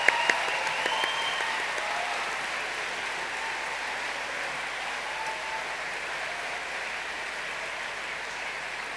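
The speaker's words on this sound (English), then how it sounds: "join me in thanking them with another huge round of applause" A large audience at a university health and social sciences graduation ceremony gives a long round of applause, a steady even roar of many hands clapping, heard alone without speech.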